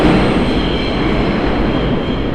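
A New York City subway train rumbles steadily through the 5th Avenue station, a loud, continuous roar of wheels and cars with faint squealing, close by and without voices.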